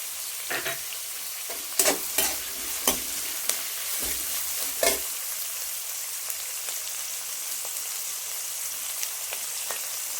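Cabbage and green chilli stir-frying in a pan for egg fried rice: a steady bright sizzle throughout, with several sharp scraping stirs of the spatula early on, then continuous frying alone.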